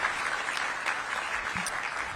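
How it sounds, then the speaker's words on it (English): Steady applause from an audience honoring Councilmember Kenyon McDuffie at a public event with the DC Mayor, a continuous wash of clapping lasting throughout without pauses. "Give Councilmember McDuffie a big round of applause."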